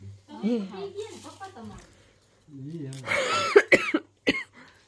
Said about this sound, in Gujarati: જો મને ઉધરસ થઈ ગઈ